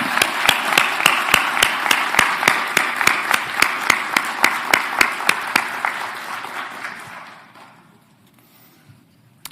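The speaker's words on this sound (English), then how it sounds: "Graduates, please join me in giving your supporters and loved ones a round of applause" Graduates at a veterinary white coat ceremony applaud their supporters, a loud steady round of clapping with distinct claps cutting through, fading out to near silence after about seven seconds.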